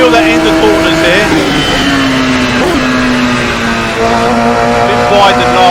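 Radical SR3 XXR race car with a 6-speed paddle-shift gearbox in Assetto Corsa, its engine droning loudly and rising in pitch, with a quick gear change partway through and a voice talking over it.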